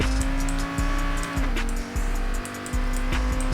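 Car engine in the Payday 2 video game, revving hard with a steady whine that shifts pitch and briefly cuts out several times, with tire squeals between the gear changes.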